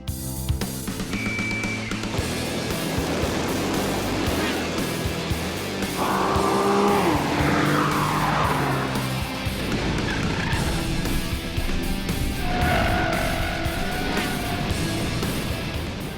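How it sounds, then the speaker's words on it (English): Nissan 370Z race car driving on track, a loud sustained engine drone with rising and falling revs and sweeping pitch changes, close and continuous with brief tire squeal. "the Nissan 370Z is quick"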